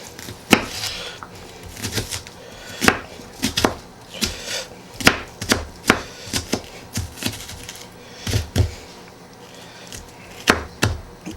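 Onions for a Carolina burger are chopped on a board with a knife, producing crisp, uneven knocks in irregular bursts, close and distinct with no talking.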